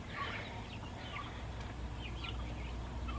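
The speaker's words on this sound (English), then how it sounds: "The turkeys try to get out of the turkey jail." Turkeys in a pen gobble and cluck in scattered bursts, moderately close over a steady low hum, with no talking.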